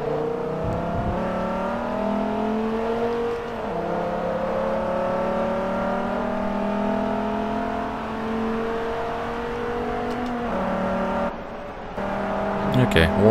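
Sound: Dodge Viper ACR engine racing, from the video game Forza Motorsport 3

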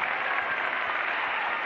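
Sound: audience applause for dance couple 29

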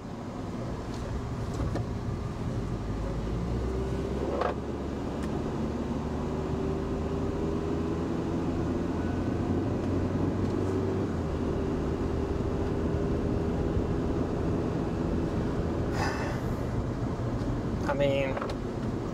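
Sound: Honda Element engine running after stalling fix

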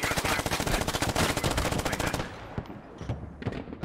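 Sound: 120mm mortar firing in video game Squad

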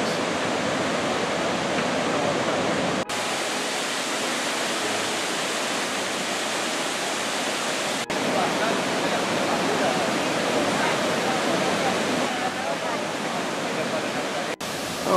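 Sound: waterfall roaring, Argentina

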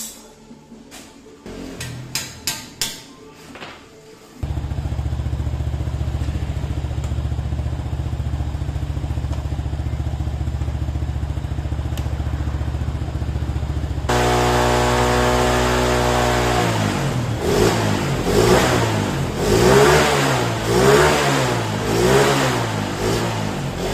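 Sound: Honda motorcycle engine revving during mechanic test

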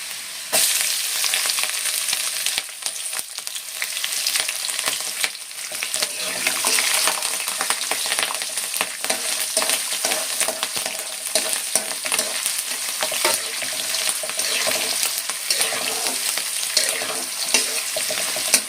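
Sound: frying and stirring in pan for carrot chitranna, green chilies added

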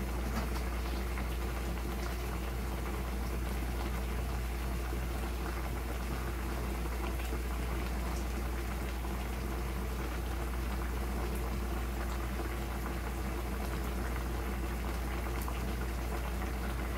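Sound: water boiling in a pot with beef

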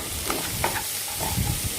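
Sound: stirring omelette pieces and rice into tempering for chicken fried rice

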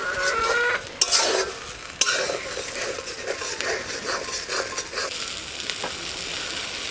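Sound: garlic paste sizzling and foaming in mustard oil

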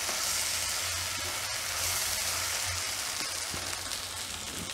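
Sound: green beans sizzling as they cook in a pan

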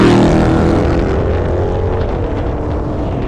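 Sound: Dodge Hellcat supercharger whine during street blow-by

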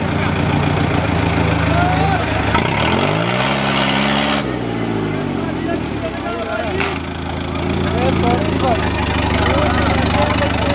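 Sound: ACE 450 tractor engine running

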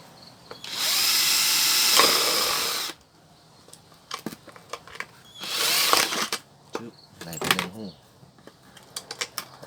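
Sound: drilling a hole in a soda bottle cap for a shrimp trap

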